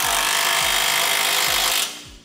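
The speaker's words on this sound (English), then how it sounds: "now we'll use a 3/4-inch socket to tighten up our nuts" An impact-style power tool with a 3/4-inch socket tightens flange nuts on a Curt trailer hitch on a 2003 Ford van, a loud continuous whirring buzz for about two seconds that cuts off abruptly.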